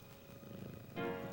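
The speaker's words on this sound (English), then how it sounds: "Hey, listen, Jeffrey's purring." Low, soft purring rumble from a cat, quiet and continuous, growing a bit fuller toward the end.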